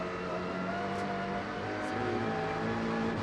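A race car descends the hill at the Macau Guia Race qualifying session, a steady engine drone heard from a distance with a faint, high whine rising and falling twice.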